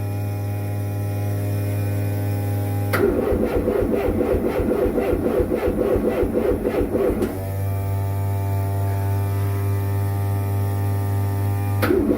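A Lancia Prisma HF integrale engine cranks for about four seconds in a rapid, rhythmic churn without catching, between stretches of steady electrical fuel-pump hum, loud and close.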